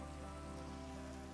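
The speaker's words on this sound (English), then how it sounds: "And it's raining." Steady rain falling in a hardcore-survival block-building game, a constant soft hiss of drops with no voices, close and even throughout.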